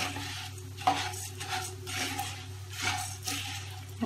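Spicy fried puffed rice with red and green chillies being stirred in a pan over gas, giving soft scraping and rustling sweeps with a few sharper clinks, close and steady, no voices.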